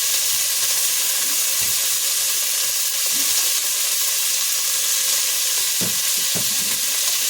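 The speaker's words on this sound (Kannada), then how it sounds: "ಫ್ರೈ ಮಾಡ್ಕೊಬೇಕು ಎಣ್ಣೆಯಲ್ಲಿ" Mint, coriander, ginger and garlic sizzle steadily in hot oil, a constant close frying hiss with a few soft stirring knocks scattered through.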